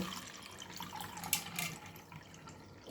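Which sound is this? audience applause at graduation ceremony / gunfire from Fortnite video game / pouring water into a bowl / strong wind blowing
pouring water into a bowl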